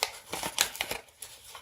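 Paper being folded into a paper airplane, a run of soft crisp creasing and rustling strokes, close and fairly quiet, with no talking.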